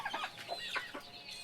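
Chickens cluck in a short burst of several overlapping calls around a rural farmhouse coop, close and fairly loud, with a higher squawk near the end.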